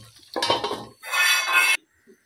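Metal cooking pot in a home kitchen scraped, then covered with a lid, a brief clatter followed by a longer bright metallic rattle and scrape before it stops; no talking.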